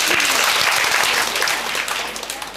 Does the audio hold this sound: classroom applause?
yes